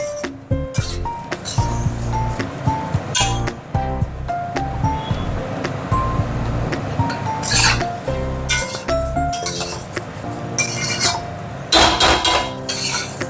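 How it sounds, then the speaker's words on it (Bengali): Rice being stirred and fried in a pot for egg pulao: frequent metallic scrapes and clinks of a spoon against the pot sound up close over a soft, steady sizzle, with no talking. "চালটা ভাজা হয়ে গেছে, দেখুন খুব সুন্দর মতন চালটা ভেজে নিয়েছি"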